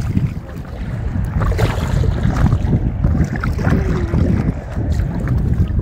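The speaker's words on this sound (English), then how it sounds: "We're kayaking." A kayak paddling out on open water off the Florida Keys near Bahia Honda, with steady wind buffeting the microphone and splashing water sounds continuing for several seconds.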